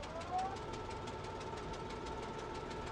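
Spruce Goose flying boat in Microsoft Flight Simulator, its engines starting up two at a time: a steady, droning engine hum with faint rhythmic pulsing, constant in level throughout.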